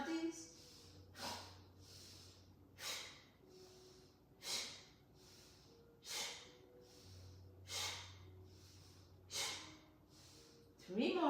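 Sharp exhalations during a yoga exercise: about seven quick, forceful breaths out through the nose, evenly spaced roughly every one and a half seconds, close and soft, with quieter inhales between and an instructor's voice faintly underneath.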